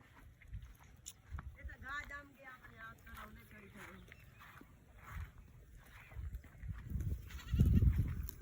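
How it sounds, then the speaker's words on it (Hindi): Goats on a village farm bleat a few times amid outdoor chatter, with louder, closer calls near the end as people talk over the herd. "ये बकरी सारी तेरी हैं?"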